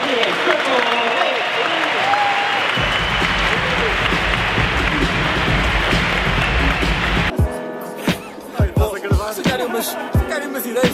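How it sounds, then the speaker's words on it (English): A large conference crowd at Web Summit 2017 applauds Paul Levesque, the clapping loud and continuous for several seconds before giving way to pulsing stage music with a voice over it. "Ladies and gentlemen, round of applause for Paul Levesque, aka Triple H."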